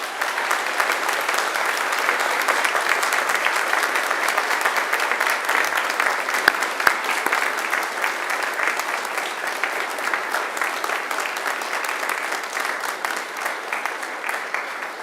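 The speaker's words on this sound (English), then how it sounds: "And now it's time to give them a mighty round of applause." A large graduation ceremony audience applauds steadily for about fifteen seconds, a dense, even wash of clapping with no pauses and no talking.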